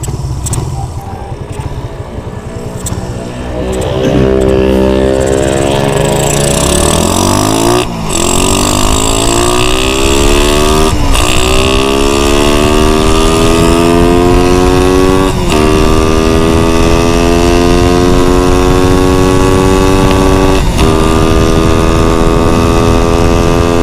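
A motorcycle fitted with a Nibbi roundslide 30mm carburetor roars loudly and close on a test ride, engine climbing repeatedly through rising revs with sharp gear-shift breaks between pulls.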